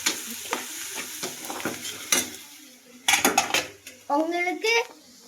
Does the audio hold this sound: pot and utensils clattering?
yes